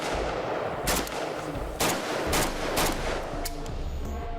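Several sharp AK-47 assault rifle shots fired at a 25-yard range, spaced irregularly over a steady background hum, each crack loud and close.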